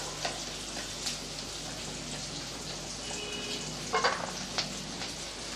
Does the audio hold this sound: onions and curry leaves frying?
yes